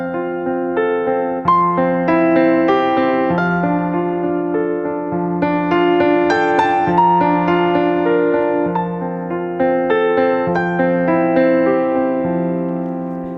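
Left-hand piano harmony pattern with the pinky anchoring one low note while fingers one and two play harmony above, a steady sustained accompaniment heard alone and up close.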